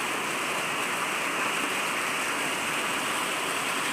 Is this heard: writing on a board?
no